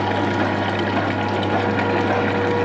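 Water draining steadily from a soda machine's tank during a cleaning cycle, a continuous close rushing and gurgling flow with a low pump-like hum underneath, no voices.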